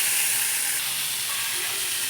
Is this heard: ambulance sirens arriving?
no